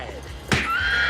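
A horse neighs loudly and close by, a rising then falling whinny with a brief hoof clop, standing alone without talk.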